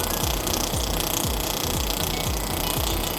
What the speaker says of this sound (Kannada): ಈಗ ಬಿ ಲೆಟರ್ಗೆ ರೈಸಿಂಗ್ ಮಿಷಿನಲ್ಲಿ ಈಗ ರೈಸಿಂಗ್ ಮಾಡ್ತೀವಿ